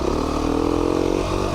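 A 2019 Beta 390 RR Race Edition motorcycle engine holds a steady, close mid-pitched drone through a short stretch, with a slight change in tone near the end and no talking.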